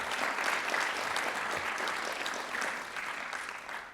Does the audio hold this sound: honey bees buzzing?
no